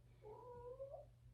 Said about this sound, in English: I have a cat who is being so silly.